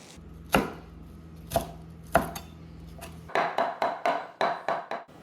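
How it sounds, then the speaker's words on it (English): Parsley fresh from the garden is chopped with a knife on a board: three slow, spaced cuts, then a quicker run of about eight sharp rhythmic chops, close and clear with no talking. "I need to chop the parsley."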